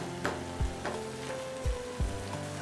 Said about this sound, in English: Now we'll add tomato pulp and saute for few seconds.